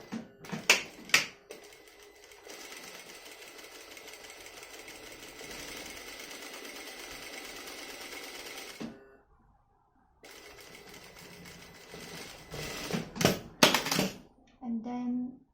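A sewing machine runs in a long steady stretch stitching sleeve fabric while a puff sleeve is deflated into a normal sleeve, preceded and followed by clicks, clatter and handling noises, with a short quiet gap between runs.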